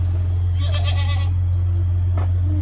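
A newborn goat kid on a farm bleats in a wavering, high cry, then gives one short bleat, all over a loud, steady electrical hum.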